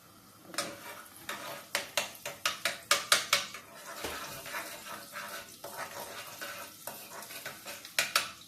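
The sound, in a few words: garlic frying in hot oil in a pan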